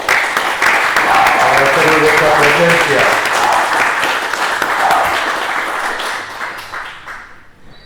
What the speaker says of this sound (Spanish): dar un aplauso a Ángel Torres Quesada, aunque no lo esté aquí